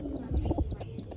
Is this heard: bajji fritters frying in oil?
no